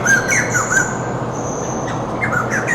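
Several birds squawk in the North Carolina Zoo aviary, short harsh calls repeating in bursts over a steady background murmur, fairly close and loud.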